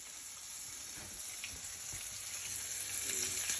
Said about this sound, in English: Just want to brown it just a little on both sides.